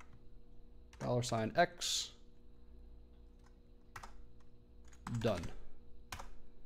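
Keyboard keystrokes while typing a bash for loop in a terminal, scattered clicks and taps heard between bursts of close spoken words, with a few isolated key presses in the quieter gaps.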